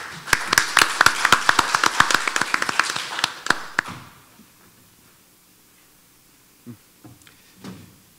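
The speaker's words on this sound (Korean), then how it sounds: "큰 박수로 맞으시기 바랍니다." Audience at a civil engineering policy forum applauding, a burst of dense, fairly close clapping that thins and stops after about four seconds, followed by near silence with a few faint knocks.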